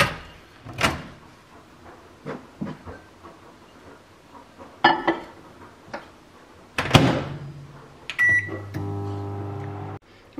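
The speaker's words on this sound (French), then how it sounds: "je vais le mettre 30 secondes au micro-ondes" A microwave oven melts chocolate in a home kitchen: first come clicks and door knocks, then a sharp door clunk near the end, followed by the steady humming tone of the running oven.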